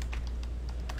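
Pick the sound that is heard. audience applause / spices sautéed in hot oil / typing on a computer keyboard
typing on a computer keyboard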